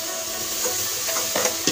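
Mixed spices hit hot oil with browned onion and garlic, giving a loud, continuous close sizzle with a few soft stirring clicks near the end and no talking.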